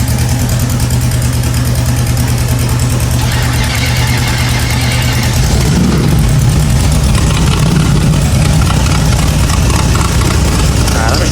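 A car engine runs and idles, a steady, loud low rumble with a rhythmic knocking pulse; partway through the tone shifts rougher and the rumble thickens as the engine keeps running.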